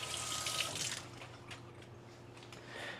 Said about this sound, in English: I need to do a quick little rinse again here.